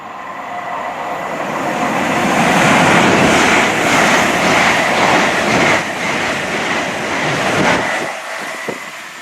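Train on the East Coast Main Line rushing past, a loud broadband roar with rhythmic wheel clatter swelling to a peak mid-clip and easing away, no talk.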